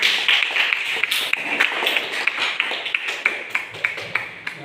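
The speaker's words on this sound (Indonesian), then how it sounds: "tepuk tangan untuk Maya" Students in a classroom clap for a classmate, a small group's fairly loud claps with individual slaps standing out and thinning toward the end.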